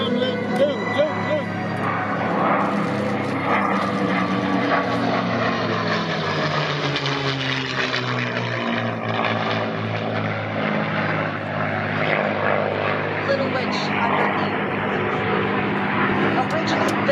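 A 1945 Mustang converted to a Cavalier Mustang, a propeller fighter, drones loudly past at a Columbus airshow, its engine a sustained rumble with a pitch that slides as it passes, while a commentator talks over it.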